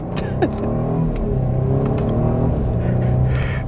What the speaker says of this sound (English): I'm gonna do a slight acceleration run